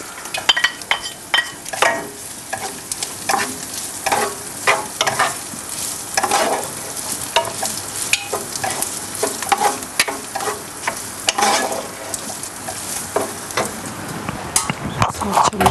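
Minced meat and pre-boiled rice stirred together in a hot frying pan for a Bitlis dish, a steady sizzle with repeated scraping strokes of a spoon against the pan, close and busy throughout.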